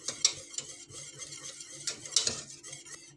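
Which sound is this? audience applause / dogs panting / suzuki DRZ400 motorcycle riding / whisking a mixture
whisking a mixture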